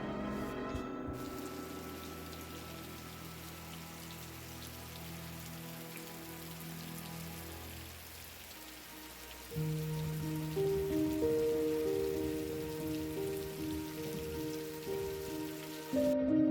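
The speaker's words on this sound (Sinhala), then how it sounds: "බලන්නක දැන් ටික වෙලාවකින් කොච්චර වහිනවද කියලා" Steady rain falls on a surface, a dense continuous hiss that fills the whole stretch, joined midway by louder tonal background sounds; no one speaks.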